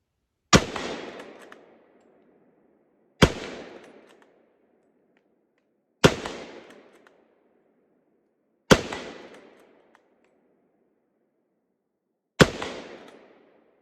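Five single rifle shots from an American Enfield Model 1917 fired outdoors at a target about 80 yards away, loud sharp cracks spaced a few seconds apart, each followed by a short decaying echo, with no talking.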